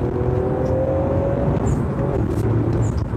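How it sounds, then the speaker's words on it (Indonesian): A 1600 cc Toyota GR Yaris accelerates hard in first gear on an empty road, its engine note climbing loud and close from inside the cabin, with a rising whine and no talking. "jalanan di depan kita udah kosong, kita coba akselerasi"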